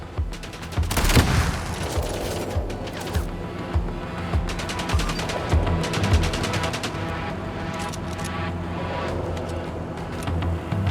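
Dense bursts of rapid automatic gunfire in the Mindseye video game during a firefight against machines, loud and sustained with a heavy blast near the start, then continuous rattling volleys with no talk.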